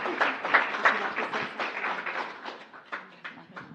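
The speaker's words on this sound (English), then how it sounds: "Let's give Sandy and our library a round of applause" Audience at a city council meeting applauds, a dense burst of many hands clapping at steady strength that thins slightly toward the end, with no talk over it.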